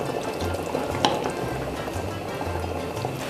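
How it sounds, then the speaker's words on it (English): Italian tomato sauce boils on a stove over medium heat, giving a steady, close bubbling and popping with soft liquid gurgles and one slightly sharper pop, alone without talk. "so it is boiling and bubbling, as you can see."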